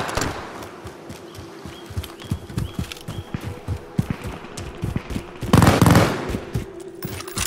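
Light machine gun fire in a shooter game crackles as rapid, staccato bursts of shots over a continuous low hum, with a louder, denser burst or blast near the end, and no speech.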